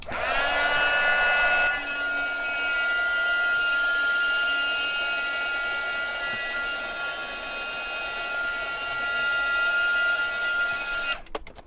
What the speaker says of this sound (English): So now I'm gonna take my actual heat gun and I'm gonna turn it on and just go right over top.